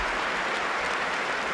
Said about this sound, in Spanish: Aplaudan, aplaudan. No dejen de aplaudir.